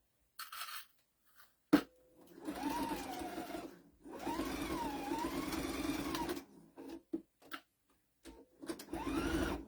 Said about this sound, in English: I'm going to sew 1/4 inch across.